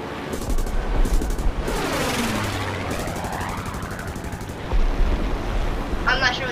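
Artillery and rapid gunfire in the War Thunder combat game, a continuous loud roar of shots and explosions with a deep rumble throughout, peaking near the end.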